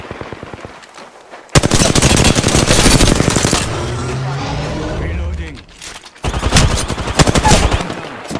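Rapid automatic gunfire in a battle royale video game, in dense, loud bursts at close range, broken by a pause before firing resumes, with game voice lines and effects mixed in.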